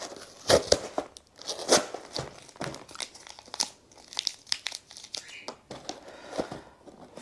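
Gum tape peeled and torn off a cardboard box while unboxing a Samsung Galaxy Ring, irregular close rips, crinkles and crackles coming in bursts, with a voice talking between them.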